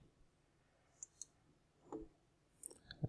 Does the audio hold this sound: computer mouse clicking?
yes